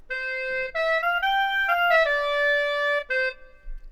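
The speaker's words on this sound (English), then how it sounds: "If I mute off the effects and play this to you," A dry, unprocessed clarinet sample plays a short legato phrase of sustained, bright reedy notes that step up and then back down. It sounds fairly loud and close, with no one talking over it.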